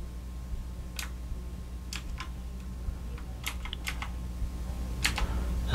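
Keys on an LED backlit mechanical typewriter-style keyboard are tapped in sparse, irregular clicks, some single and some in small clusters, close but fairly soft over a low steady hum.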